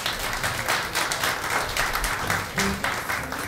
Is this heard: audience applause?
yes